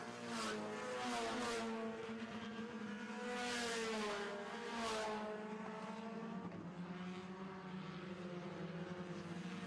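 Four-cylinder stock cars race around a track in a heat. Several engines drone and rise and fall in pitch as they pass, fairly close and continuous, with a rising and falling roar throughout.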